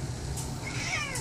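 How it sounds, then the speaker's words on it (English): A house cat gives a single clear, close meow, loud and drawn out in a quiet room. "But Cindy, this is the amazing adventure of the kitty cat."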